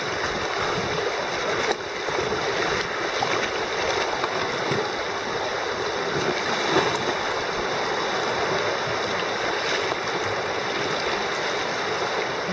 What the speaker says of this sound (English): This is not exactly how you want to go through rapids.